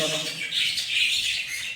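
Young Rezai pet bird chicks in a loft nest box give continuous high, thin chirping calls, fairly close and steady with slight swells in intensity.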